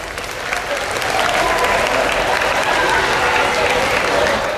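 Audience applause fills a motivational session for students, a dense, steady wash of many hands clapping that swells slightly after the first second and holds loud and even to the end.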